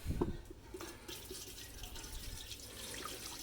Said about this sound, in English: Cup of water. Just right into the pot.